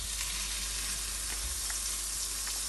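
Butter and leek sizzle steadily in a saucepan, a dense crackling hiss that holds at moderate volume with faint stirring clicks throughout.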